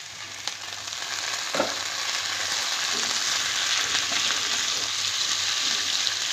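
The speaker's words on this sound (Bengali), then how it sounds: "সব কিছু একটু নেড়ে চেড়ে মিশিয়ে নেব।" Potato, tomato and capsicum with onions hiss steadily as they are stir-fried in a pan, a continuous broad sizzle with a few soft scraping knocks of the spatula, no voices.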